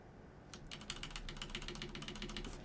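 Computer keyboard keys pressed while working in Blender, a quick faint run of clicks and taps in a quiet room.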